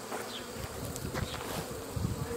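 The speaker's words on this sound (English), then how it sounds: "I put a few boxes out here to distract the bees because they were trying to get into the honey house." A swarm of honey bees buzzes around emptied honey boxes set outside a honey house after extraction, a continuous close drone with individual bees passing nearby.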